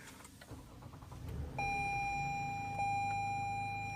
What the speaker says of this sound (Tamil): அதுக்கப்புறம் வந்து இப்போ வண்டி ஸ்டார்ட் பண்ணி பார்ப்போம்.